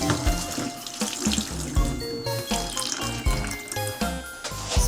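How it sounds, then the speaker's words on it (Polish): Remaining water drains from toilet plumbing after the supply is shut and a plug is unscrewed, a steady near splashing flow that continues throughout over a low rumbling background. "spuszczamy resztę wody"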